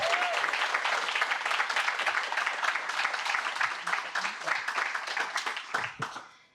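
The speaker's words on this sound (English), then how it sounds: "Let's give them a round of applause." A room full of people applauds a group of 30 graduating students at a workforce training program ceremony, with dense, sustained clapping that holds steady for several seconds before tapering off at the end.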